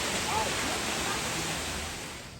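A waterfall in Panna Tiger Reserve gives off a broad, steady rushing roar that fades slightly toward the end.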